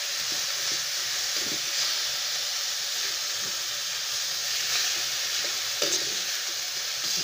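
Vegetables sizzle in a frying pan while being stirred for lumpia filling, a steady loud hiss with occasional soft scraping clicks from the stirring, no talking.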